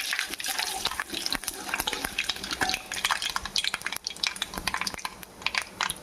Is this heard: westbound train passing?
no